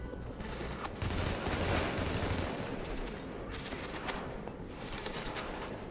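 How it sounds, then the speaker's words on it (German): Gunfire from the online shooter game Tom Clancy's The Division, a dense, continuous fusillade of rapid shots and booms rolling on without pause, fairly loud with no voices. "Schuss, von hinten."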